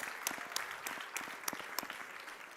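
Quiet, fairly sparse clapping from a conference audience at a European research and innovation session, with a few distinct claps standing out over a soft background wash for a couple of seconds.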